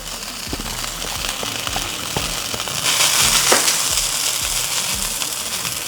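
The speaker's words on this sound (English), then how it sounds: "While them hash browns are cooking" Hash browns fry in butter and oil on a Halo Elite 4B griddle, a dense crackling sizzle with sharp pops that grows louder midway and stays close and steady.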